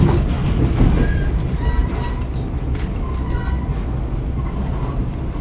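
RBMN F-unit diesel train rolling through a rail yard, a steady loud rumble of wheels and cars with faint clicks and squeals throughout.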